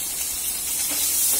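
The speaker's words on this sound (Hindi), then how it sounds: "इसी तेल में हम प्याज को फ्राई कर देंगे।" Cubed onions frying in hot oil in a kadai, giving a steady, loud hiss with a broad high sizzle that holds constant for the short stretch with no voices.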